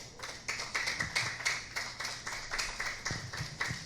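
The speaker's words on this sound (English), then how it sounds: "So I'd ask you to give a nice warm welcome, a round of applause for Mr. Jim Cottle." Steady applause from a crowd, with claps landing in a quick, even rhythm. It is fairly loud and there are no voices over it.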